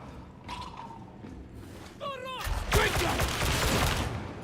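Gunfire in the video game Warhammer 40,000: Darktide comes as scattered shots and mechanical clatter, then a dense, loud volley in the second half, with a voice speaking over it.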